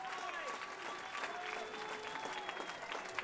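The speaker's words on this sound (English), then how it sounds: "a round of applause for what a main event should be like" A crowd applauds steadily after a main event fight at Rocktagon, with continuous clapping and cheering beneath an announcer's voice.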